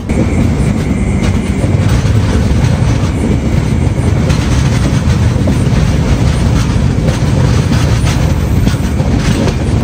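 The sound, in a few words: Tirumala Express train running from Tirupati to Renigunta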